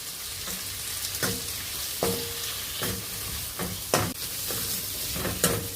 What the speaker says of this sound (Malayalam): ചക്കപ്പഴം നെയ്ക്കകത്തിൽ നന്നായിട്ട് വഴന്ന് കിട്ടിയിട്ടുണ്ട്.